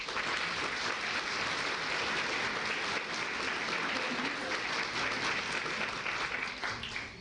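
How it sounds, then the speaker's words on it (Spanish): Audience at a forum on vote-buying and electoral crimes giving sustained, dense applause, steady and even throughout with no talk on top. "para quien le pido un afectuoso aplauso."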